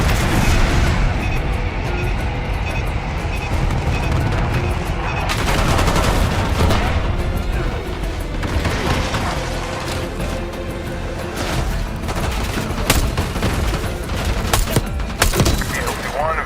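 In the Black Ops 6 video game, an airstrike brings heavy bursts of rapid gunfire and booming explosions that run almost continuously. Voices speak over the barrage.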